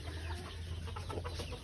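Local desi chickens cluck softly and steadily at close range over a constant low hum, with no voices.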